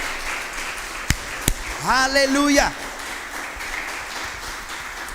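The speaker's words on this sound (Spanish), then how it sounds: "Da un aplauso al Señor." A church congregation claps during a Spanish-language service, a brisk wash of applause running throughout, with a couple of sharp nearby claps and a voice shouting a praise exclamation midway.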